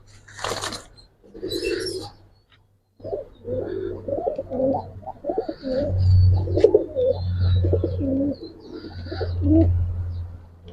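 Giribaz and coloured pigeons coo repeatedly up close in soft, rolling throaty phrases, preceded by a couple of brief wing flutters, with no talking.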